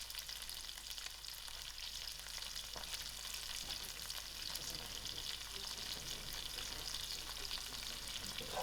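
Curry leaves and split green chilies with dry chilies fry in hot oil in a pan, giving a steady, quiet sizzle with occasional stirring scrapes and no talking.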